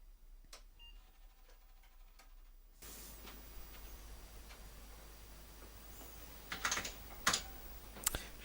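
Typing on the keyboard of an Apple II+ clone, entering a CP/M directory command: a few scattered key clicks, then brisker bursts of clattering keystrokes near the end over a steady low hum from the machine.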